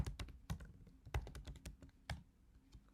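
Quick, crisp clicks of a computer keyboard as a command is typed, irregular bursts of close key presses with brief pauses, quiet and without speech.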